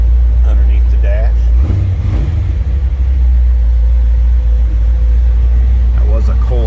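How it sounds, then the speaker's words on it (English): A 1962 Chevrolet Impala SS engine rumbles steadily at idle after a cold start, a loud low drone throughout with someone talking briefly over it. "That was a cold start, FYI."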